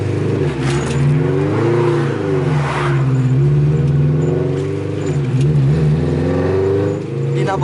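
Car engine revving hard with its throttle stuck open during a New Year run, holding a loud, wavering high idle that surges and dips throughout, with a voice speaking briefly underneath.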